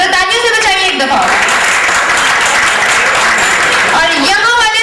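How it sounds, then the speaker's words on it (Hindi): An audience at a prize show in Jhelum bursts into a few seconds of loud, dense clapping, with a voice speaking just before and after the applause. "जरा तालियों से बचाइए एक दफा।"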